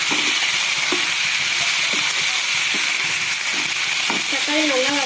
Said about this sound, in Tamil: இப்போ நம்ம கட் பண்ணி வச்சுருக்க தக்காளி சேர்த்து நல்லா பச்சை வாசனை போகிற அளவுக்கு வதக்கி விட்டுக்கலாம்.